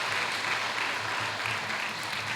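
Steady applause from an audience at a high school hall of fame ceremony, an even, sustained wash of clapping at moderate distance with no clear voices.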